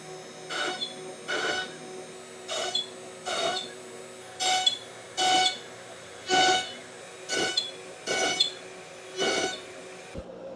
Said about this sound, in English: I threw it into my CNC software and just created a drilling toolpath, and I'm going to run that now